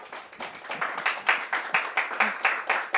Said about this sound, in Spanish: Creo que le debemos otro aplauso.